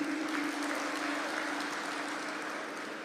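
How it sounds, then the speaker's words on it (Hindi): An audience at a Hindi–Urdu mushaira poetry gathering claps steadily in honour of the performers, a dense, sustained round of applause that tapers slightly toward the end, with no talk over it. "मैं चाहता हूं एक बार उनके सम्मान में आपको ताली बजानी चाहिए"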